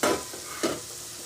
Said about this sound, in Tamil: நம்ம கட் பண்ணி வச்சுருந்த பீன்ஸும் கேரட்டும் இப்போ நம்ம போட போகிறோம்